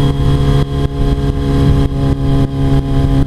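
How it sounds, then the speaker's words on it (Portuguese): Motorcycle engine on a highway, loud and close, revving in repeated pulses with short gear-change dips as it accelerates, no talking. "Fazendo ela acelerando pra galera"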